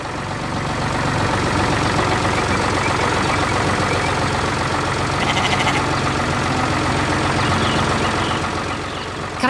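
A tractor engine runs steadily in an animated farm scene, a continuous mechanical drone with a faint rhythmic beeping partway through, loud and close throughout with no talking.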